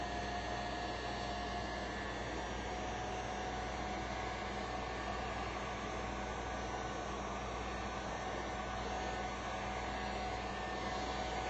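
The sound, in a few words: heat gun melting and smoothing wax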